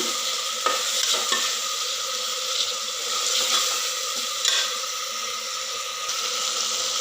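Ginger-garlic paste and tomato fry in a pan, giving a steady close sizzle with the scrape of stirring running throughout, free of talk.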